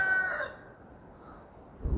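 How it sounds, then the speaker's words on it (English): A rooster crows once, fairly close, its call fading after the first half second, and a brief thump follows near the end. "Rooster."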